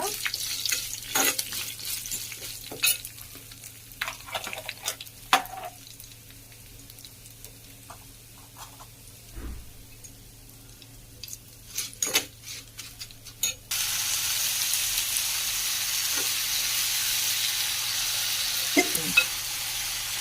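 Curry leaves fry in hot oil in a pan for pachi pulusu, giving a crackling sizzle with scattered pops and stirring clicks, which turns into a steady, louder hiss partway through.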